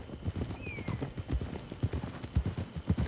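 Horse hooves clip-clopping at a steady walking rhythm in Red Dead Redemption 2, fairly close, with faint background ambience and brief voices underneath.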